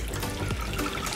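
UHT milk pouring over puff pastry for an Umm Ali dessert, a steady close liquid stream that fills the brief moment alone.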